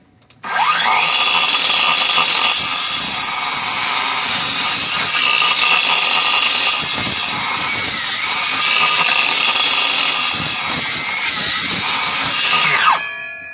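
A Heimerdinger LB293 cordless circular saw rips through wood in one continuous loud cut of about twelve seconds, its high whine rising at the start and winding down at the end.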